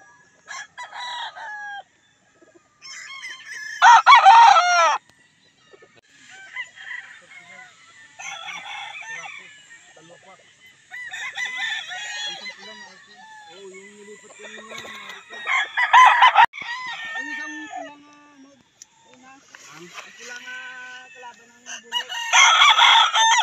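A gamefowl rooster crows repeatedly, several loud, close cock-a-doodle-doos in separate bursts with short pauses and some clucking between them.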